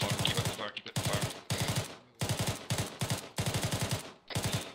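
Rapid bursts of gunfire ring out in repeated volleys during joint military training, close and loud, broken by short pauses between strings of shots.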